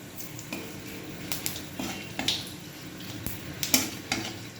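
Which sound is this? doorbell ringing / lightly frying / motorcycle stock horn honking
lightly frying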